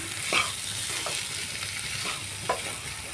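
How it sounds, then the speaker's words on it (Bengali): Squash vegetable being stirred with salt in a cooking pan, a steady sizzling hiss with a couple of soft spatula scrapes spaced apart, close by and without voices. "লবণটা দিয়ে আমি ভালো করে একটু মিশিয়ে নিচ্ছি"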